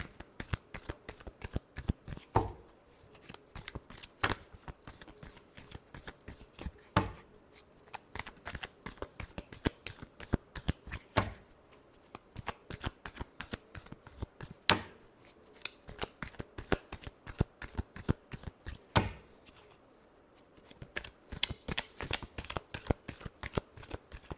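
Tarot cards are shuffled close up for a long stretch, a rapid crisp riffling flutter in repeated bursts with short pauses between, quiet and steady.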